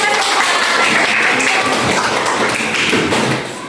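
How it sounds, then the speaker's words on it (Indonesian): A class of students clapping together in a classroom, a loud, dense, steady burst of hand claps close by that tapers off slightly at the end. "tepuk tangan ya"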